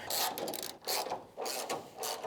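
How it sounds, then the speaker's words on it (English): A ratchet tightening bolts on a car part makes repeated bursts of fast clicking, four spaced runs of steady ratcheting close by, with short pauses between strokes. "So we're just going to bolt them in and be done with it."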